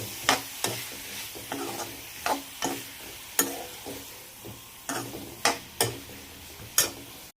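Bottle gourd pieces stir-fried in oil in a pan sizzle softly while a spoon scrapes and clicks against the pan in a series of sharp, irregular strokes.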